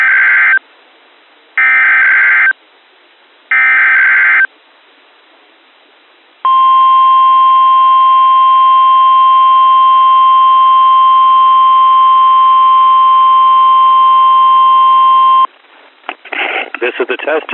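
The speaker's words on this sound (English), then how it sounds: "This is the test of the National Weather Service Hazardous Weather Warning System." NOAA Weather Radio weekly test from the National Weather Service hazardous weather warning system: three loud digital data bursts, then a long steady attention tone for about nine seconds, followed by the start of a broadcast voice.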